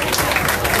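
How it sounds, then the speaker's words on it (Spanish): Crowd applause at a Basque tavern anniversary celebration, a loud, dense wash of clapping under a noisy room, very brief. "un aplauso de nuevo"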